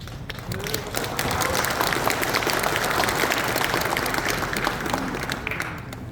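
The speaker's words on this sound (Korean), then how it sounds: "큰 박수로 환영해 주시기 바랍니다." A crowd at a town residents' meeting in Nampyeong, Naju, applauds as a councillor is introduced, a loud, sustained wash of many hands clapping that swells in after a brief start.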